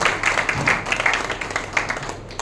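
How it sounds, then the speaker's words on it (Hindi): Seminar audience clapping for a guest, a sustained patter of many hands at moderate volume, steady throughout with slight swells and no speech over it. "उनके लिए एक बार ताली एक बार बजा दें"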